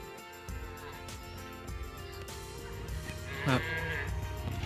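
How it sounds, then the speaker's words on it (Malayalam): A cow moos once, fairly distant, at Marottichal in the Chimmini wildlife sanctuary. The low drawn-out call rises over quiet outdoor background noise with no talk. "ഇവിടെ നിന്ന് ഒരു പശു കരഞ്ഞുട്ടാ."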